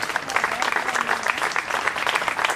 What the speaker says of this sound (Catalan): aplaudiu en Antònia